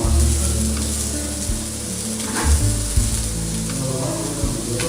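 Slices of elephant foot yam (karunai kilangu) fry in hot oil with a loud, continuous close sizzle and bubbling, with a few soft stirring knocks and no talking.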